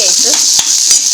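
Green chillies and urad dal crackle in hot oil in a pan for a yellow potato sabji. A brief, close sizzle is broken by a couple of sharp spatula strokes.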